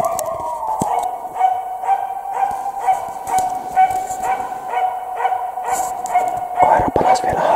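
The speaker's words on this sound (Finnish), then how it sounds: "Koira palasi vielä haukkumaan tätä lähtöpuuta" A Finnish Spitz barks in an autumn forest, sending out a steady series of sharp, ringing barks at a quick, regular pace, fairly close and clear throughout.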